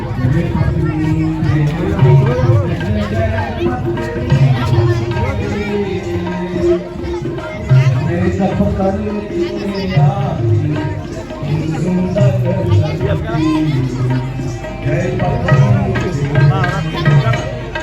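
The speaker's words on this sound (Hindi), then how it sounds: "बहुत ज़्यादा भीड़ है।" A large, dense crowd at a temple yajna gathering in a Thakurbari: a steady, loud babble of many overlapping voices that continues for the whole stretch, with no single voice standing out.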